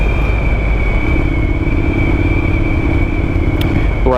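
Motorcycle riding along a road past narrow bridges in South Jersey, a steady loud engine drone with a continuous rumble throughout and a faint higher whine.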